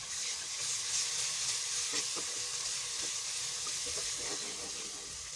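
Onion and garlic frying in a pan, a soft, steady sizzle with faint stirring clicks, nearby, with no voices.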